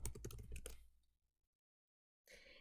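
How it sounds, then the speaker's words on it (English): Quick keystrokes on a computer keyboard clatter close by for about a second, fade into silence, then a brief soft burst of clicks returns at the end; fairly quiet overall. "I'm going to type in Social Security number."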